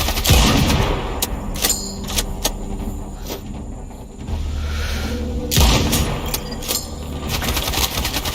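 Mortar rounds fire in the game Sniper Ghost Warrior Contracts 2 with two heavy, deep booms several seconds apart. Each boom rolls out into a rumbling tail over a steady background hum.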